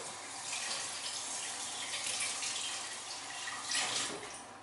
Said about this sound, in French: je vais juste mettre un petit coup d'eau